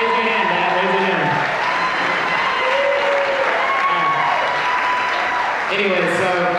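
An audience at a talk applauds continuously, a dense, loud sheet of clapping with voices and cheers mixed in throughout.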